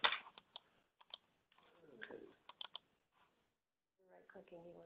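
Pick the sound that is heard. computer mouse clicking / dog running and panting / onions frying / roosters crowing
computer mouse clicking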